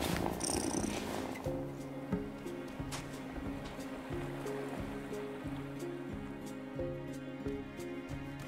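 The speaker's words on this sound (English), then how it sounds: "Listen to that purr." A cat purrs in the video game Wylde Flowers, a soft rhythmic purring cycle over gentle ambient game music, repeating evenly throughout with no talk.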